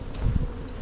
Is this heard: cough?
no